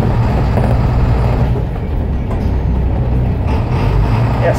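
Blue Bird school bus engine running steadily outdoors on a farm, a continuous low rumble at close range that holds loud and even throughout.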